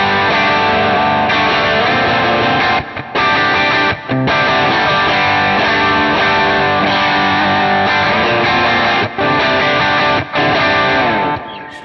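Electric guitar played through a Kemper with a 70s Orange 4x12 cab profile, loud and continuous distorted chords ringing with thick harmonics, broken by a few brief stops between phrases.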